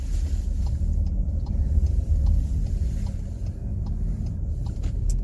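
A car drives at night across a newly renovated, lit-up footbridge in La Rochelle, its engine a steady low rumble with tyre noise throughout and no talking.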